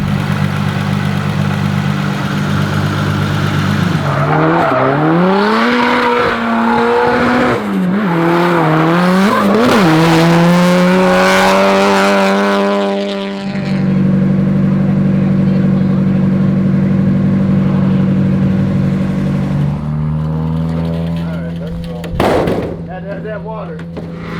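A Toyota Chaser drift car revs hard with rising and falling engine notes and tire noise from a skid, loud and close, then settles into a steady idle before another brief burst.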